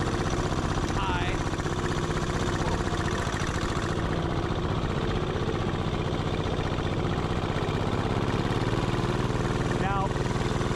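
A Gravely tractor repowered with a diesel engine runs steadily close by, a constant loud rumbling drone with a dense throb that holds throughout.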